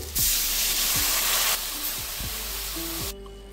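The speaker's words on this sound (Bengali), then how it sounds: "এবার দিয়ে দেবো জল।" Water poured into a pan of potatoes frying with salt and turmeric sets off a loud, bright hiss of steam that bursts up, holds for about a second and a half, then settles into a softer sizzle before cutting off.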